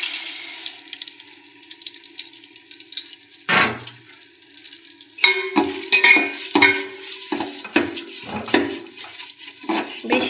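Dal being fried in a pan with green chilli for khichuri, sizzling and scraping under stirring, with a stretch of running water from a tap before the pan noise picks up.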